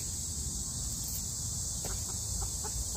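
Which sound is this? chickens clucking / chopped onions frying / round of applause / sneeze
chickens clucking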